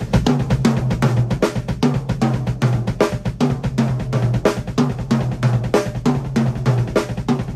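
Bass drum struck by foot in fast, even triplets, a steady stream of close, punchy thumps continuing throughout with no talking.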